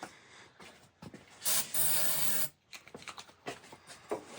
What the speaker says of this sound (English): Hold on, I'm just gonna use carb spray.